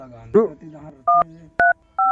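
Telephone keypad tones beep as a number is dialed, three distinct pitched beeps in quick succession, following a brief burst of speech.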